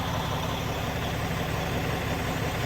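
A truck engine idles after a cold start with a steady, low, continuous rumble, close by and unchanging, with no voices.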